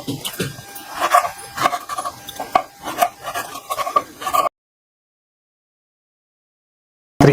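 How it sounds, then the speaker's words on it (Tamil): A knife chops eggplant into small pieces on a board, with irregular close taps and scraping, moderately loud; the sound stops abruptly and then silence follows. "அதுக்காக நான் இந்த மாதிரி பொடியாக கட் பண்ணுறேன்."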